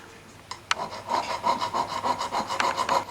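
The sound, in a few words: metal file rasping oxidised surface of a jewellery medallion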